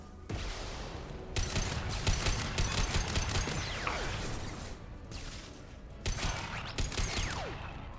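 Turrets firing in Mass Effect 2 crackle in dense, sustained bursts of automatic fire with metallic clatter and whooshing streaks, pausing briefly around the middle before resuming.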